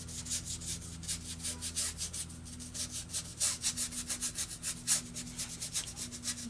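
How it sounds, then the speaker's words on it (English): A paintbrush scrubs lightly back and forth across a paint palette in a steady run of soft, close rubbing strokes, with a low constant hum underneath and no talking. "Lightly, just cleaning off my palette, whatever's here. And kind of scrubbing it."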